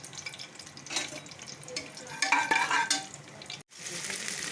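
Whole garam masala frying in hot oil in a pan, crackling and sizzling with stirring scrapes, louder bursts in the middle and a brief gap before the sizzle resumes.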